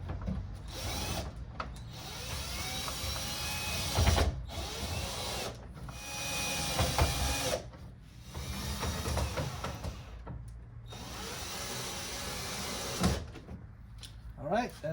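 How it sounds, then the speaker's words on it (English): A power drill whirs in repeated short bursts as screws are driven into a Rubbermaid plastic shed, with clicks and handling noises and a person talking in between. "stick it through the hole first and then hold it down and drill it in"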